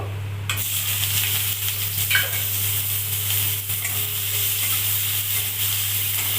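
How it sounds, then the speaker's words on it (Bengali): Steady, loud sizzling of chopped onion frying in hot oil, with a constant low hum and a few faint clinks. "তেল গরম হয়ে গেছে এবার পেঁয়াজ কুচি দিয়ে দেব"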